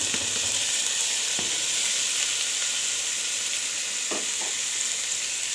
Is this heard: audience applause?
no